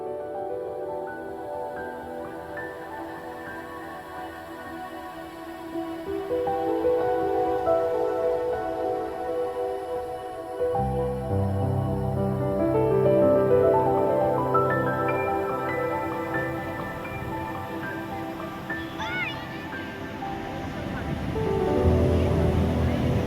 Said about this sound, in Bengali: এটা হচ্ছে ভোরের সমুদ্র